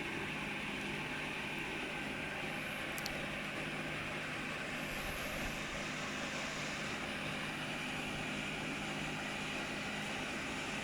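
A Carrier ECM inducer vent motor blower ramps up, producing a steady, fairly faint whooshing hum that holds even throughout without any voice.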